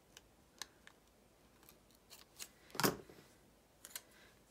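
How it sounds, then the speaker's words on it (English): Scissors trim the bottom off a clear planner sticker, with several light, crisp snips nearby and one louder cut in the middle, no talk. "So just clip off the bottom of the clear sticker here."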